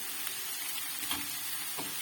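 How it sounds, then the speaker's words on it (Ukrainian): Steady, gentle sizzling of onion frying in a large amount of oil, a soft continuous hiss with a few faint crackles. "І смажимо цибулю до м'якості."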